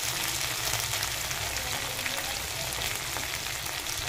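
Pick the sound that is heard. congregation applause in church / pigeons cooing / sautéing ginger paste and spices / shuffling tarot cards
sautéing ginger paste and spices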